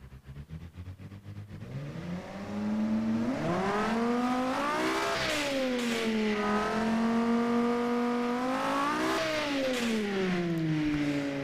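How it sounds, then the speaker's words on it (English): A front-wheel-drive supercar engine from the Automation game revs up and down in smooth sweeping climbs and falls, loud and close, with no voices. "it's a pretty good sounding engine"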